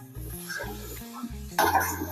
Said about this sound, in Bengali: ভালো করে মিশিয়ে দিয়ে মশলার সাথে ভেজে নেব